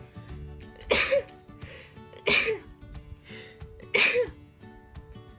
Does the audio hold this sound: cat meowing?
no